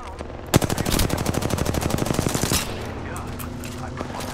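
Automatic weapon fire rattles in a fast, loud burst during an Apex Legends squad fight, a dense run of shots lasting about two seconds before giving way to lower game ambience.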